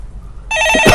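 A telephone bell rings loudly in a studio after a half-second of quiet, with a steady electronic ringing tone filling the rest of the moment.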